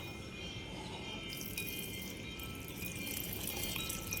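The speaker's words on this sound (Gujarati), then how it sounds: "હું તુલસી માને એને પાણી પાવા જાઉં છું" Water trickles and splashes steadily from a small pour onto the soil and leaves of a basil plant, faint and continuous, with no talking.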